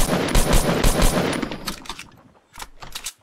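Rapid gunfire in Fortnite, a loud close burst of repeated shots that trails off, then a short second volley after a brief pause, with no talking.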